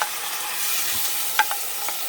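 Two cups of rice sautéing in a pan while making kalua chicken, a bright continuous sizzle close by with a few sharp scrapes and clinks of a utensil, no talking.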